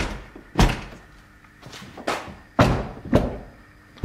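Several heavy thunks of a Mercedes S-Class car door being pushed shut after accident repair, failing to latch, four or five dull impacts spaced irregularly, fairly close in an otherwise quiet space.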